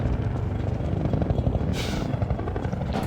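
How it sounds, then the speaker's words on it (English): A hunter-chopper helicopter in the Half-Life 2: Episode 1 video game throbs steadily overhead with a rumbling rotor drone, joined by a couple of brief hissing bursts. "There are hunter choppers everywhere."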